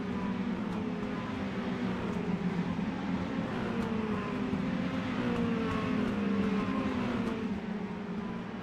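Mini stock race cars lapping at Slinger, a steady, loud engine drone with several overlapping pitches that slowly rise and fall as the cars circle the track, continuous throughout.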